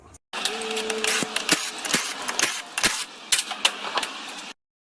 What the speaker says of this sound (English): Now we can take the wheels off and just tap these tie rod ends out